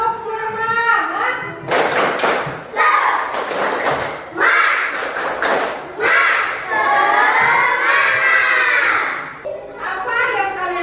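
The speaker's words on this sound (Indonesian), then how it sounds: "ayo kita tepuk semangat dulu" Schoolchildren in a classroom perform a rhythmic spirit clap chant, loud bursts of clapping and shouted voices repeating in quick sets over about ten seconds, close and energetic, with a teacher's voice leading between them.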